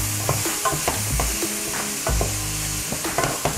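Halved garlic cloves sear in a hot pan for beef stew, a steady loud sizzle broken by repeated scraping and stirring of utensils against the pan.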